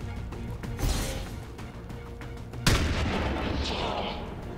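Shotgun blasts in XCOM 2, two sharp booming reports a couple of seconds apart, each followed by a rumbling tail, loud over a busy game soundscape.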